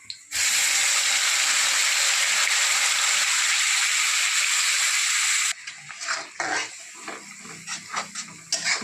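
Curry leaves and masala drop into hot oil in a pan and burst into a loud, sustained sizzle for about five seconds, then settle into softer crackling and scraping of stirring up close.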